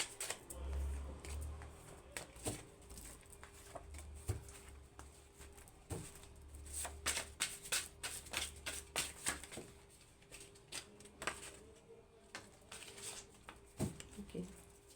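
Tarot cards being drawn and handled close up, with a run of soft slaps, flicks and rapid shuffling patters, the riffles bunching into dense bursts, no voices.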